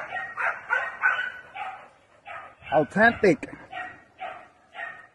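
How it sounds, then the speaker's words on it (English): American Bulldogs at a kennel yard in Puerto Rico give a short burst of deep barks midway, between stretches of someone talking close by. "I brought these dogs back for a reason."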